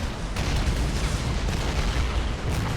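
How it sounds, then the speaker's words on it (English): Artillery fire in a Warhammer 40k mod battle at a Krieg super-trench line under Tau assault: a dense, continuous roar of booming shell blasts and rumbling impacts, loud and sustained, with no clear gaps between detonations. "Now the artillery is really kicking in."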